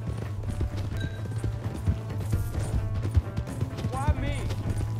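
Horse hooves clip-clop in Red Dead Redemption 2, a steady gallop-like patter running the whole time beneath a low droning hum, with people talking over it and a brief whinny-like cry near the end.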